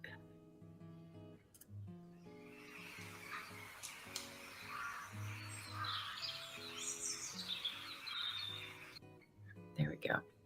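Recorded bird calls played back for cats, a busy stream of high chirps and tweets running under a steady musical beat and occasional talking, fairly faint overall.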